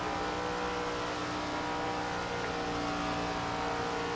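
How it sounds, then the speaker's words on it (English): A super late model race car rounds a turn at Chestnut County Speedway in Florida, its engine a loud, steady, heavily harmonic drone heard close up from onboard throughout, with no talking. "A little bit off throttle on the entry to the turn as we entered a little bit high"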